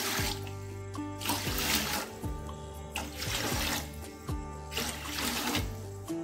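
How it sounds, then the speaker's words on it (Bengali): Water poured into a pot of sugar to make syrup for a chhena rasmalai, a steady splashing pour broken into repeated rhythmic surges over a few seconds, fairly quiet and with no speech. "যে বাটি মেপে আমি চিনি দিয়েছি ঠিক সেই বাটি মেপে আমি এখানে জল দিয়ে দিচ্ছি।"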